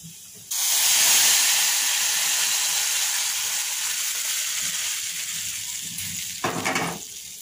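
Boiled raw mango pieces drop into a hot tempering of garlic, dried chili and five-spice, setting off a sudden loud sizzle that holds steady, fades slightly, then ends with a short scraping stir.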